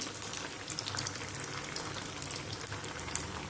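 Four medu vadas made from leftover vari rice fry in hot oil, a steady dense bubbling crackle and sizzle that runs continuously at moderate level with no talking.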